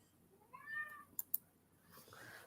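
A house cat gives a soft, faint meow followed by a couple of brief sharp clicks, in an otherwise quiet indoor room.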